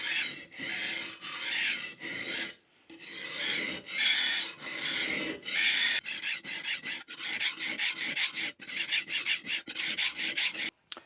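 A kitchen knife with a dished edge is ground on a sharpening stone in long, rhythmic rasping strokes, close and loud, with a brief pause early on and quicker, shorter strokes toward the end.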